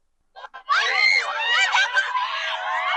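Crowd in Lampung screaming hysterically to welcome President Jokowi's arrival, a dense sustained wall of shrill high voices that rises after two brief bursts and stays loud throughout.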